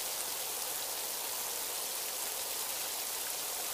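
Steady, dense rainfall hisses evenly throughout, a heavy downpour in Quanzhou, Fujian, China, with no gaps or other sounds.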